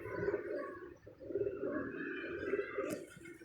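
Teddy pigeon pairs coo steadily in a soft, low, rolling murmur from a nearby cage, continuous and fairly faint, with no voices over them.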